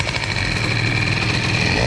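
A Bidalot RF 50 WR motorcycle engine idles low and uneven, a loud, close, steady buzzing putter with no talk.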